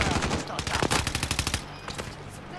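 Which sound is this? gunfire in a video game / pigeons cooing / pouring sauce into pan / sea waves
gunfire in a video game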